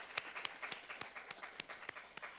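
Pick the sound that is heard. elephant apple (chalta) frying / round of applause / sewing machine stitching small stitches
round of applause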